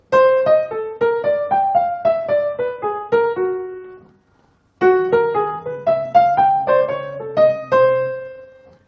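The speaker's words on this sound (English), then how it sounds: "So he took 12-tone rows and he made them swing." A bright, angular single-line melody built on a twelve-tone row in a swung, lilting jazz rhythm, played in two phrases separated by a short pause.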